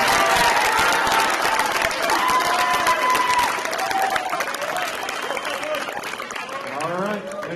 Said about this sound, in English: One more round of applause for this group of three.